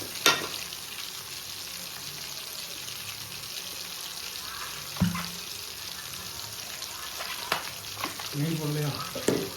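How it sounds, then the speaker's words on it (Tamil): Meat and spices sauté in a pan for biryani, giving a steady, close sizzle with occasional sharp clinks and scrapes of stirring. "இது எல்லாத்தையும் நல்லா வதக்கிட்டு அதுக்கப்புறம் கறியையும் போட்டு வதக்கிட்டு"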